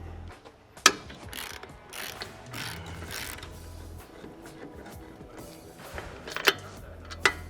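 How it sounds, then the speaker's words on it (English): Ratchet wrench clicking as two brake caliper bolts are broken loose on a Z1 off-road vehicle during a rear big brake install, with a few sharp metallic clicks and clanks over faint shop background. "we're just gonna break these two calipers bolts loose"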